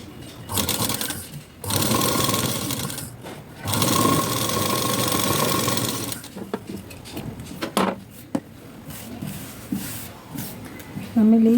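Bursts of a sewing machine stitching blouse lining and button strip, steady whirring runs of a few seconds each broken by pauses, with fabric handling and a voice talking between runs.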